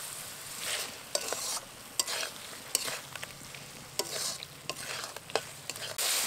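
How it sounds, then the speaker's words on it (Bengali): Chicken cooked with burnt chilli paste being stirred in a pan, a spatula scraping in irregular strokes over a continuous moderate sizzle, close by with no speech. "পোড়া লঙ্কা বাটাটা দেওয়ার পর খুব ভালোভাবে নেড়ে নেবো আর একবার।"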